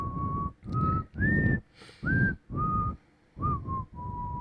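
A person whistles a slow series of seven sustained notes, each held briefly with short gaps between, close and clear over a rumbling background.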